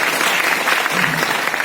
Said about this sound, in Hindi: उनके लिए तालियां जोरदार